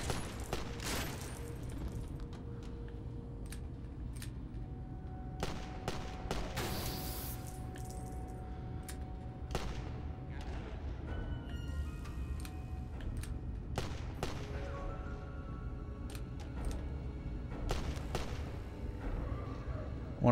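Gunfire in the Lego Jurassic World video game: sharp shots crack out irregularly over a steady low background hum. Some come singly and some in quick clusters, moderately loud, with no voice on top.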